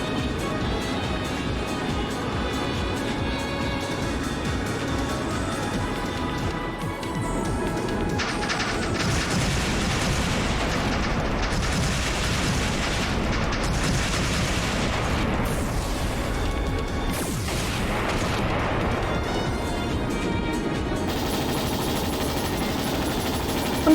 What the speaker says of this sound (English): Now that's a gun.